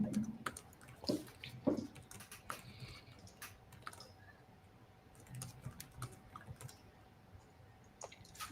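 Light typing on a computer keyboard during an office-hours call, soft irregular key clicks in short bursts with pauses, faint and close, over a quiet room with a low steady hum.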